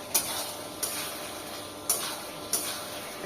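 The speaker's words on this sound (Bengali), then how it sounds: "এখন দিয়ে দিচ্ছি ভেজে রাখা চিকেন।" Fried chicken tossed into a homemade tomato sauce with chicken powder, a soft low simmering hiss punctuated by four crisp metallic clinks of a spoon against the pan, close by.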